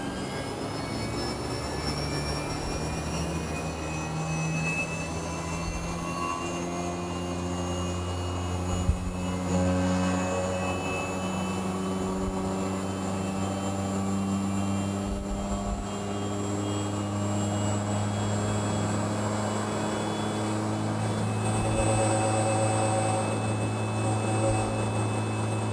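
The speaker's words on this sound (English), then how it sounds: "During the warming up phase, the dry pump is rotating at full speed, 110 Hz" Edwards GXS dry vacuum pump running at full speed while warming up, a steady loud droning whine with layered tonal hums and a high mechanical whistle, constant throughout with no talking.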